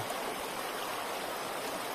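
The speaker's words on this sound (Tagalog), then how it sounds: "Luslos ng tubig po yan." River water flowing over rocks, a steady, fairly faint broadband rush with no breaks or voices.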